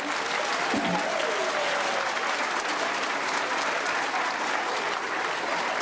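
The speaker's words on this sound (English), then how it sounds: "So would you give them a big round of applause?" An audience at a winter elementary and middle school choir concert applauds in a dense, even wash of clapping that holds steady for several seconds at moderate loudness, with no voices standing out.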